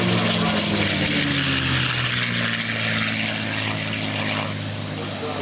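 Propeller airplane flying by at a 2004 naval air station airshow, a loud continuous engine drone with steady low harmonic tones that slowly shift in pitch as it passes close overhead, filling the whole clip.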